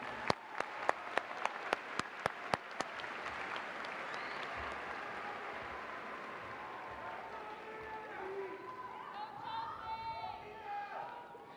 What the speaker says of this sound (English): Let's give Mr. Glenn a round of applause one more time.